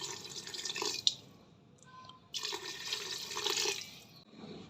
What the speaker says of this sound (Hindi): यहाँ पर अब मैं 5 से 6 गिलास पानी शामिल कर रही हूँ